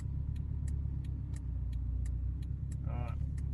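A Subaru EA82T turbo engine with Megasquirt MS3x management idling in a parked car, a steady low rumble with regular faint ticks, and a short voice near the end.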